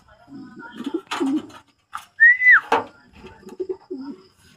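Pigeons in a racing loft give a coo and a bright rising-falling call, mixed with low soft cooing notes, close by and moderately loud; no talk over it.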